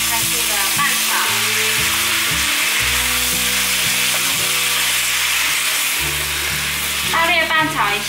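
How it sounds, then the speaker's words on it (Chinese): Red mushrooms and cucumber stir-fried quickly in a wok with a splash of water, a loud continuous sizzle with scraping stirring strokes, under background music. "可以放入红喜菇， 还有大黄瓜，加入点水，快速的拌炒"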